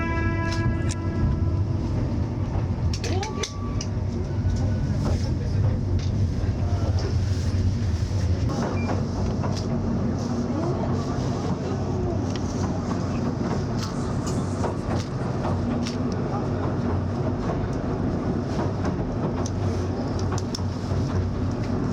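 A train on the Oigawa Railway in Shizuoka running through forest, steady rumble and clickety-clack of wheels on rails, with occasional squeals and clanks, heard continuously at moderate level.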